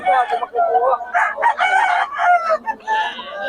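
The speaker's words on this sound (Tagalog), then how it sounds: "Mga black hen ni Boss Bob. Anong bloodline yan? Black McRae" Black hens of the Black McRae bloodline, with clucking and crowing-like fowl calls filling the space continuously and fairly close, no talk heard.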